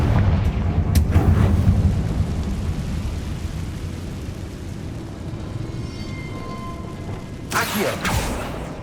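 A Confringo spell blast in Hogwarts Legacy lands with a deep rumbling boom that rolls on and slowly fades. A second sharp burst of impact follows near the end, with game ambience beneath.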